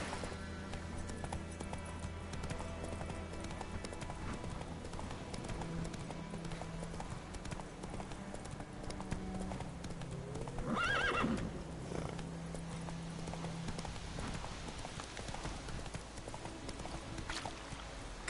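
Steady clip-clop of horse hooves throughout with a horse neighing partway through, over continuous background ambience in The Witcher 3: Wild Hunt on PS4 Pro.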